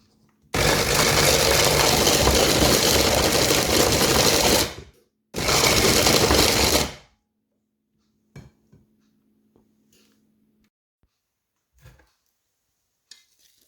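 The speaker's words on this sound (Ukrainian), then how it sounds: "Фініки і родзинки збиваємо блендері до однорідної маси." A blender whirs loudly as it purées dates and raisins into a smooth paste, running in two steady bursts, the second shorter, with a brief pause between, then stopping and leaving a few faint clinks.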